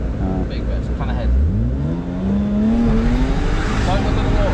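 A BMW E46 revs hard during a drift session, the engine note climbing steadily and then holding high under an instructor's voice, with some tire noise.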